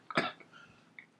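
A single close cough bursts out in a quiet indoor space, with a faint short throat sound after it and another cough starting right at the end.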